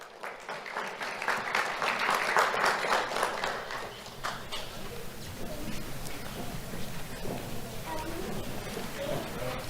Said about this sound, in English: Let's have a round of applause for Allison Lara.